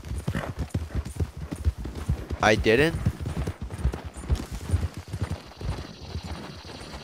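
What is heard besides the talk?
horse galloping in Red Dead Redemption 2 video game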